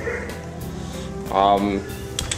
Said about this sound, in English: As you can hear, it's very noisy. It is full of dogs.